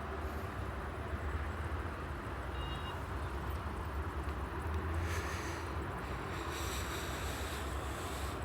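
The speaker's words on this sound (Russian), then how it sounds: "Это у нас на берегу моря Грозненского." Waves wash steadily onto the shore of the Grozny Sea in the evening, a continuous close roar of surf mixed with wind buffeting the microphone, with no talking.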